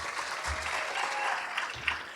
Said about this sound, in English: can we give Mayor Miranda a big round of applause